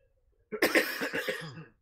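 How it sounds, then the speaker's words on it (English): A single hoarse cough bursts out close by, followed by a few rough, raspy throat-clearing coughs that fade quickly. "What are you guys, tandem coughing?"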